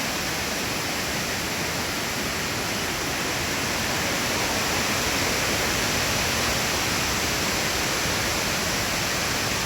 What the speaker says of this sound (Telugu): ఆ వాటర్ అంత అలా కిందకి బండల మీద గుండా జారుకుంటా